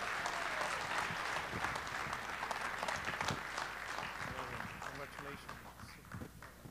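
A crowd applauds someone at an innovation awards evening, with sustained clapping over which voices and some chatter can be heard, easing off slightly toward the end.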